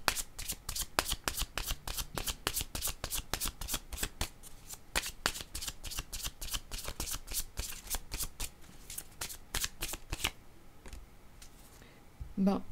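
Tarot or oracle cards are shuffled nonstop for about ten seconds, a dense run of crisp riffling clicks close by. It then gives way to quieter rustling at the end.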